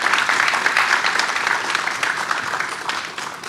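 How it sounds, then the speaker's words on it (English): Conference audience at an AI industry event claps for a speaker, a full, lively burst of applause that holds steady and then tapers off over a few seconds. "A big round of applause for him again."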